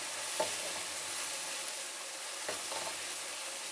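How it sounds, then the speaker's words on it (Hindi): Masala with garlic and ginger sizzles steadily in a pan, a continuous bright frying hiss with a couple of soft scraping stirs of a spoon, close and alone without talk. "अब ये देखिए मसाला हमारा अच्छी तरह भुन रहा है"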